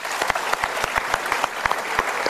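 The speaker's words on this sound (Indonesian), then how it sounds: "Kita berikan tepuk tangan." Applause from a seminar audience at a motivational talk, a steady wash of clapping with several sharp, distinct claps standing out close to the microphone.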